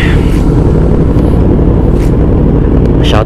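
Motorcycles rumble heavily and steadily at a Deerfoot City car meet, including a brand-new 900 machine, the close engine roar filling the scene while a voice briefly cuts through.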